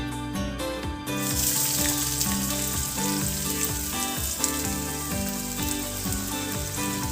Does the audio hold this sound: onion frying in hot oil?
yes